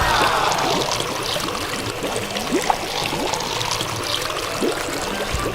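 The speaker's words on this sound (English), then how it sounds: "Time to fill the pool with water and enjoy it." Water pours and splashes into a small concrete pool, a continuous close trickle with bubbling gurgles and occasional brighter splashes throughout.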